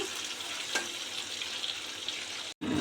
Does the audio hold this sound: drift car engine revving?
no